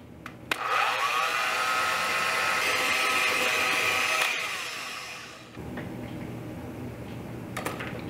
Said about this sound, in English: with my whisk attachment, you could just use a regular whisk, but this is faster. I'm going to beat these until they're a little bit thick.